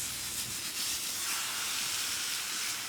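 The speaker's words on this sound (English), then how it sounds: "that's a hot skillet. This is a cast iron skillet." Food sizzles in a hot cast iron skillet set on a gas barbecue grill, a steady, bright, close hiss holding evenly throughout with no voices.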